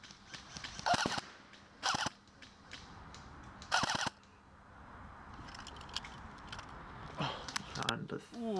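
Airsoft DMR fires a few sharp, spaced shots in a Firebase Charlie defence game outdoors, quick bursts standing out over steady background noise, with a voice speaking now and then.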